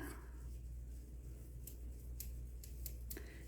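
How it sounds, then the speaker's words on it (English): Small, very sharp scissors with a protector are handled, giving several quick, crisp clicks and snips late on over a low, faint room hum, with no talking. "Next we have our little scissors. I love these things. These are really sharp."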